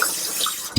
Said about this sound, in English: You want to make sure that we always wash our vegetables